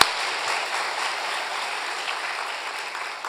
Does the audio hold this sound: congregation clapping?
yes